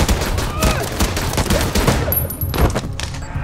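Rapid gunfire in a dramatic film scene, a fusillade of many sharp shots in quick irregular bursts over a dense, loud background, with no talk.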